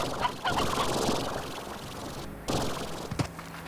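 Briar hens in the video game Slime Rancher cluck and gobble in several fowl-like bursts, with a rustling bed of background noise around them.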